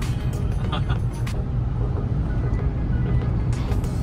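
A car is driven along a Mumbai road, giving a steady, close rumble of engine and road noise throughout, with a voice talking over it.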